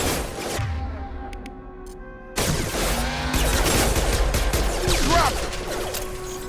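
Combat gunfire in the Mass Effect 2 video game: a brief muffled stretch gives way to sustained, loud bursts of shots and crashing impacts that keep going to the end.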